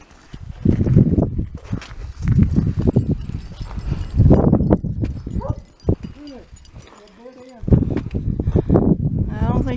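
Horses plod along a creekside foothills trail, their hooves giving a steady, fairly close clip-clop. People talk over the hoofbeats throughout.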